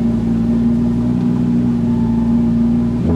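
Audi automatic car engine running and revving, a loud steady mid-pitched hum close by, rising slightly at the end, no talking.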